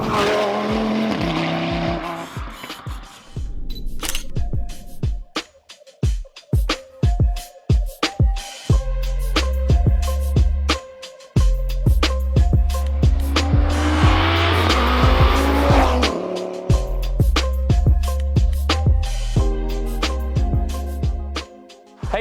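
A fully built 770 bhp Audi RS3 running on ethanol, engine roaring hard through gear changes with loud tire squeal and skidding, close and sustained, with sharp pops between shifts.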